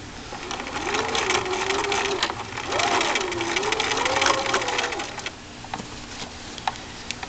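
A sewing machine stitching a miniature elastic-waisted skirt runs in two steady bursts with a pause between, whirring and ticking close by, then slows to a few light clicks.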